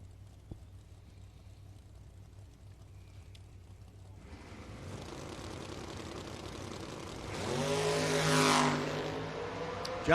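Drag racing cars, a 1969 Nova and a Camaro, rumble at the starting line, then the engines swell into a loud roaring launch that peaks and begins to fade, heard from some distance.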